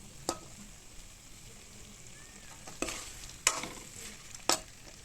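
Turmeric and Kashmiri chili sizzle steadily in a hot kadhai, broken by a few sharp clinks and scrapes as a spoon stirs them.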